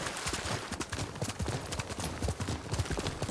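Horses trot along in quick, rhythmic clip-clop hoofbeats in the video game Ghost of Tsushima, several animals moving together at a steady pace.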